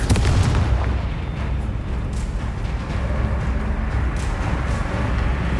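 Confringo blasting spells and other combat explosions from Hogwarts Legacy, a dense run of booming blasts and crackling bursts one after another, loud and continuous with no pause.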